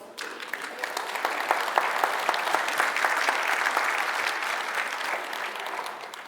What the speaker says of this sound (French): Cailleux, Bruno Richard et Philippe Gravet, que vous pouvez applaudir.